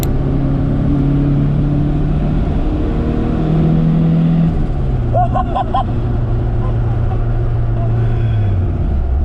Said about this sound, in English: That little sputter, that little tu-tu-tu.